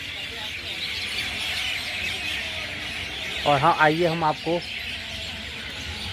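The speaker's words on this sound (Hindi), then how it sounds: "शाम का वक्त है, चिड़ियाँ चहचहा रही हैं।" Birds chirp at dusk on the bank of the Betwa river, a short burst of bright, rapid calls standing out over a steady outdoor hiss, with someone talking at the start.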